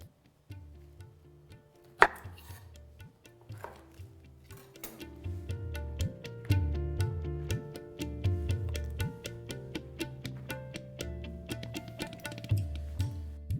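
A knife chops pointed gourd (potol) on a board, with crisp, close, rhythmic cuts falling in quick runs broken by short pauses. The strokes turn steadier and denser toward the end, and no one speaks.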